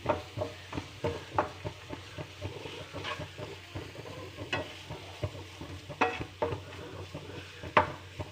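Grated coconut going into a pan of Kerala potato thoran, stirred with a utensil: repeated scrapes and taps against the pan over a soft sizzle, with no talking.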